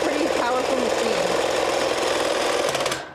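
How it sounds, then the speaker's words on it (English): A loud Singer sewing machine drives steadily through fabric, its motor a powerful continuous buzzing hum with rapid needle chatter, close and sustained before cutting off at the end. "it's like your loud singer sewing machine"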